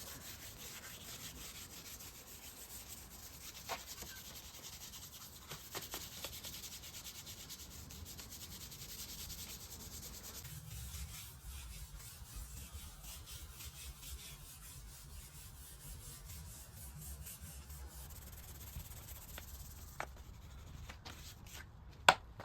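Car paint being hand sanded with 1500 grit sandpaper, a close, continuous scratchy rubbing that shifts in tone partway through and ends with a sharp tap.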